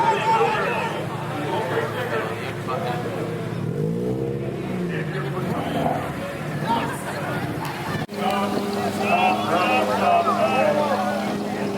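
A loud turbocharged 575 HP Honda Civic at a car show, its engine revving and blowing off, heard up close over steady crowd chatter with people talking nearby.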